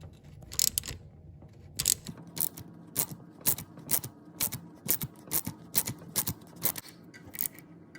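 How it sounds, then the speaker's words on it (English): A bolt puller spun by hand to draw out a starter bushing on a Volkswagen MK1 gives a series of close, sharp ratcheting clicks in quick uneven bursts, with no talking. "So now when I spin it, see the bushing is sliding out."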